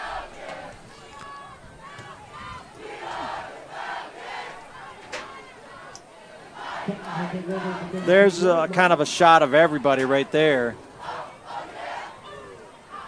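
High school football crowd at a Wichita Heights versus Wichita South game chanting a cheer led by the band, rhythmic loud group shouts building in the second half, with someone talking over the start.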